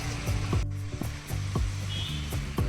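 Egg butter masala curry bubbling in a pan, with a steady sizzle and soft rhythmic pops from the thick paste at close range.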